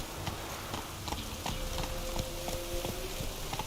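Hooves of Roach, a horse in the Witcher 3 video game, clip-clop at a steady, even rhythm with no talking.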